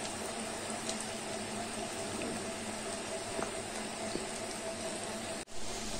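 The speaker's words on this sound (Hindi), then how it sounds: "इसी तरह सारे पकौड़े को डीप फ्राई करेंगे।" Onion pakoras deep-frying in hot oil give off a steady, even bubbling hiss that holds at a constant low level throughout, close and uninterrupted apart from a brief dip near the end.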